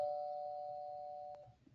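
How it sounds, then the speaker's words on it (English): A doorbell rings once with a sustained electronic chime tone that holds steady and then cuts off, heard close and alone in a quiet room. "So sorry, the doorbell rang."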